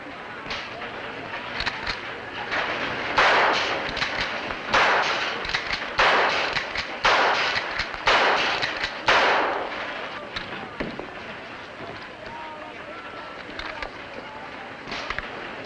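Target shooting with a gun: a series of sharp shots in irregular bursts, with some spaced several seconds apart, fairly close and loud over background commotion, thinning out toward the end.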